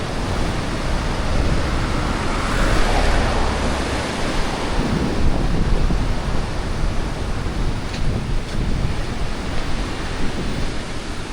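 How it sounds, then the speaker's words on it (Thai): Sea waves wash steadily onto the coast at Kep, Cambodia, a continuous broadband roar of surf that stays loud and even throughout, with no voices. "เพราะฟังนี่เป็นทะเลเลย"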